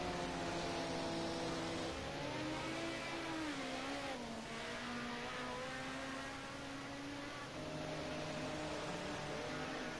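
A Ford Sierra Cosworth race car engine at Donington Park drones at steady revs, its tone sweeping and shifting slightly, distant and faint under a broad wash of noise.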